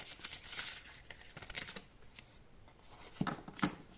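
Tarot cards shuffled by hand, soft papery riffles and slides in short bursts, then a few sharper snaps as cards are drawn, quiet and close with no talking.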